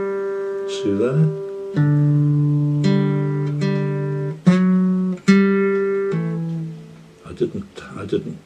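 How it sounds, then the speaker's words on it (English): A guitar rings out a short run of sustained notes, several arriving smoothly without a fresh pluck as fingers hammer onto the strings; brief voices at the end. "That hammer on brings it in for you."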